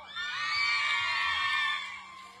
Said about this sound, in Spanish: ¡Aplausos para el chaparro!